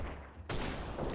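Enemy gunfire in the PC shooter game Freeman: Guerrilla Warfare, starting as a quiet rumble and then bursting into a loud, sustained barrage of dense shots from about halfway through.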